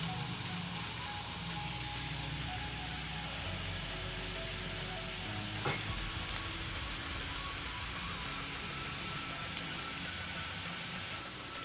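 Potatoes fry in a pan over high flame with a steady, close sizzle and hiss that carries on evenly throughout.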